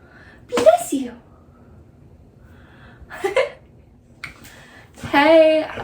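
A person sneezes indoors at home with a dog nearby, a short burst near the start followed by a couple more sharp sneezy outbursts, the last one longer and more voiced, with quiet gaps between.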